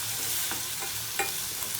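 Aloo methi matar being stirred in a hot pan, with a steady frying hiss and a few soft spoon scrapes over about two seconds.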